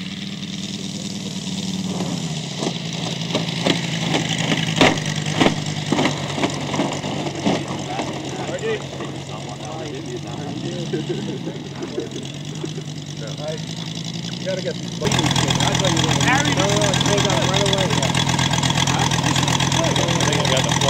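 A model Corsair F4U airplane engine runs steadily at around three-quarter throttle, a continuous buzzing drone that rises and grows louder toward the end, with people talking over it.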